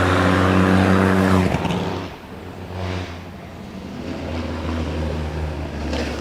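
Vintage sports car launching off the line at Prescott Hill Climb, the idling engine's deep drone breaking into a loud revving surge as it pulls away and fades into the distance.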